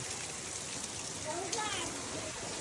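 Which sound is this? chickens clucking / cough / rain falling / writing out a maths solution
rain falling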